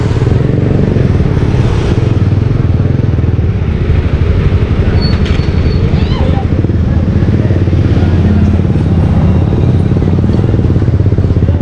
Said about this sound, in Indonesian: nagkakarga na yung mga motor dito na nakapark sa gilid.